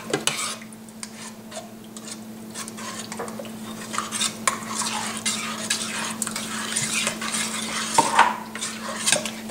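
Tomato sauce and tomato paste going into a pot of softened onions for homemade marinara, heard as steady stirring and scraping with clinks of a utensil against the pot over a soft sizzle, no talking.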